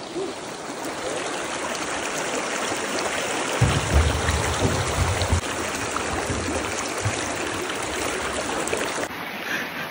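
Clear river water streams steadily along a hiking route at a river crossing, a continuous close rushing and trickling with a deeper surge of low churning for a few seconds in the middle.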